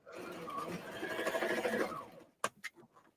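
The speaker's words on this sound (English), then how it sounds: "She can't talk and sew at the same time." A sewing machine stitches a little booklet made from index cards, running in a steady continuous whir for about two seconds, then stopping, followed by a few sharp clicks and knocks from the machine.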